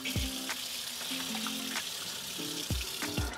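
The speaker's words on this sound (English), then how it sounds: "We're just going to rinse these off with some cold water." Cold tap water runs steadily over raw shrimp in a sink, with a continuous splashing hiss and occasional knocks and clinks from handling, close and fairly quiet.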